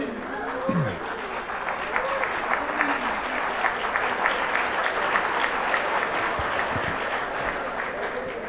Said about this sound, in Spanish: Ya te aplauden sin que respondas.